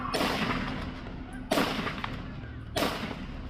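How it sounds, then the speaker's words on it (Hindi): Three loud, sharp bursts of gunfire spaced about a second and a quarter apart, each followed by a long rumbling echo, during a mass shooting at a Hanukkah celebration in Sydney. "तब लोगों को समझ आया ये गोली की आवाज है"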